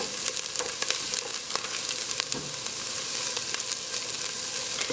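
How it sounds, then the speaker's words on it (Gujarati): Cumin seeds frying with onion in a pan give a steady, close crackling sizzle with fine pops scattered throughout. "હવે આ દરમિયાન આપણે એમાં જીરું નાખી દઈશું. અને ભલે જરાક જીરું તરાય આપણા ડુંગળી સાથે."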